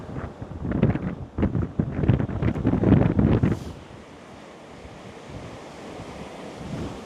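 Strong seaside wind buffets the microphone in heavy gusts over crashing surf, loud for the first few seconds and then easing to a softer, steady rush of wind and waves.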